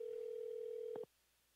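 A steady telephone dial tone hums for about a second, then cuts off with a quick keypress beep.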